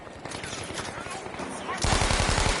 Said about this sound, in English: Got the Bren gun here.